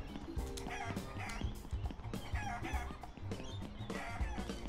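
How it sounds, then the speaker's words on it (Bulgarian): Video-game chickens cluck and squawk in a coop, with repeated short clucks and a rooster-like call against busy game sound effects, close and fairly loud. "Кокошарник? Па не една кокошка."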